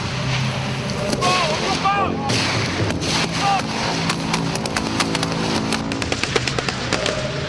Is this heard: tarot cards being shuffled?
no